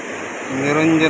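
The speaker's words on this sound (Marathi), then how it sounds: "नदीतून आपण आता खडकाखडावरून वाट काढत चाललोय" A river runs over rocks, a broad steady rush of flowing water close by that swells slightly louder midway through the short stretch, with no voices.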